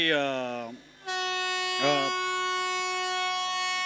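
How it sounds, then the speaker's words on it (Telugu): A long, steady horn blast with rich stacked harmonics, loud and close, typical of a train sounding its horn as it passes. "ట్రైన్ వెళ్తుంది"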